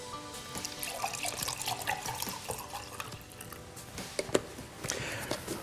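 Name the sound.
water being poured, 11.5 pH Kangen water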